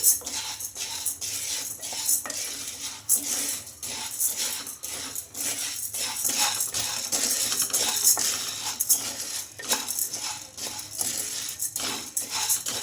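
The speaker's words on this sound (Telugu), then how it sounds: "అందులోకి ఒక కప్పు సగ్గు బియ్యం అయితే వేసుకుంటున్నాను ఈ సగ్గు బియ్యాన్ని వేసుకొని బాగా ఒక రెండు నిమిషాలు ఫ్రై చేసుకోవాలి" Dry sago pearls fried and stirred in a hot kadai, a steady run of close, light metallic scraping and rattling strokes as a spoon works the pan, with no talk over it.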